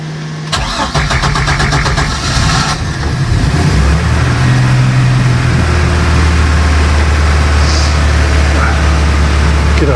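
Bayliner boat engine that has sat unused for months cranks with a rapid whirring starter, catches and settles into a steady, loud low idle running close by, with a voice heard briefly.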